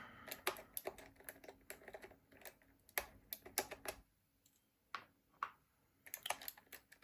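Typing on Taihao keycaps fitted to a Keymacs keyboard, crisp close clicks in irregular bursts of quick keystrokes with a brief pause midway, alone in a quiet room.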